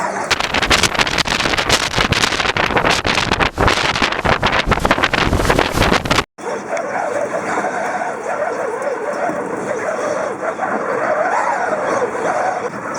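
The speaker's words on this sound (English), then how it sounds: "It is very windy today." Strong wind roars across the microphone during a desert dust storm at an RV campsite near Borrego Springs, California, a loud continuous buffeting that drops briefly and then settles into a steadier rushing noise.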